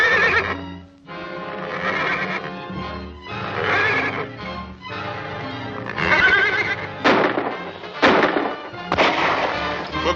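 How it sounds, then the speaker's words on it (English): A horse whinnies loudly and repeatedly over steady hoofbeats and a busy background, with several sharp cries rising near the end as horses answer one another in a mountain pass. "Smelling salts will make my horse whinny."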